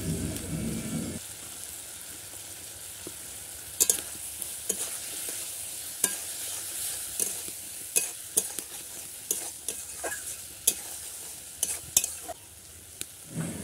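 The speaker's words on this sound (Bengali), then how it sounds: "তারপর আবারও একটু মশলাটাকে ভালো করে কষিয়ে নেব" A spiced masala is stir-fried with potatoes and eggplant in a pan, giving a continuous soft sizzle broken by scattered sharp scrapes and knocks from a spoon, with no talking.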